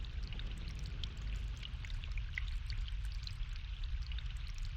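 Water pours steadily onto a plant in The Longest Journey video game, a continuous close splashing trickle with scattered droplet sounds throughout, without any talk.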